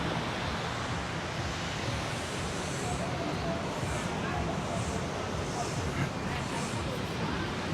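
Gentle surf rolls in at My An Beach in Da Nang, Vietnam, a continuous loud wash of waves mixed with wind noise and faint crowd babble.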